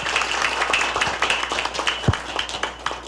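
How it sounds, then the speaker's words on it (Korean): Audience applause at a university presidents' summit meeting with the education minister, a brief scattered patter of clapping in a conference room, moderately loud with uneven individual claps standing out. "우리 오영훈 의원님께도 뜨거운 박수 부탁드리겠습니다"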